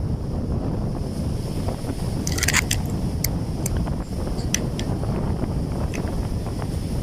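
Strong typhoon wind buffets the microphone with a steady, loud roar at Baseco Beach in Manila during Typhoon Crising, waves surging beneath it, with a few brief higher-pitched rattles mid-way.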